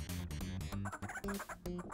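Chickens in the video game ToeJam and Earl cluck and squawk in a busy, loud electronic burst of clipped fowl noises.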